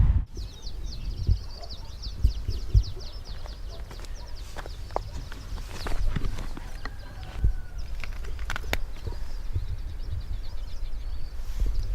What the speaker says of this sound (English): this beautiful valley packed with birds and beautiful natural sounds